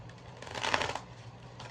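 A deck of oracle cards being shuffled by hand, a short soft riffling burst peaking midway and trailing off, close and quiet with no speech.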